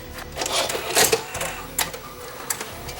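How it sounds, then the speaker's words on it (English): A JVC HR-S5300 VCR loading a tape, with a close series of mechanical clicks, clunks and whirring motor sounds in bursts, no speech. "Let's try loading a tape."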